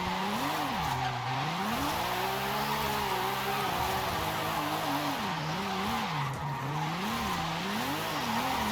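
A Nissan Skyline wagon drifts in Forza Horizon 5, its tires squealing in a long, continuous, wavering whine over a steady engine roar, loud and close throughout.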